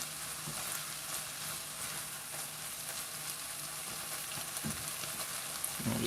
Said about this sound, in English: we'll just cook this down on a high heat for another minute or two to finish it off